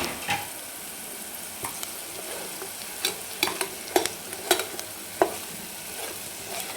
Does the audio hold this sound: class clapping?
no